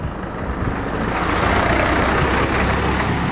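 A faulty vehicle engine runs close by with a loud, rough, continuous rumble and rattle that holds steady and grows slightly fuller toward the end, with no voices.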